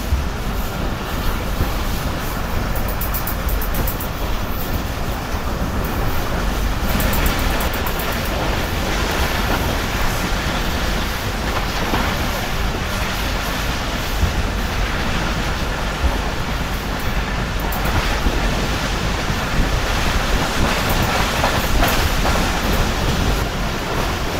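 Karakoram Express with old coaches racing between Lahore and Karachi past Qila Kantar station, a loud continuous rushing roar with rhythmic wheel clatter and rattling heard from on board, sustained throughout without talk.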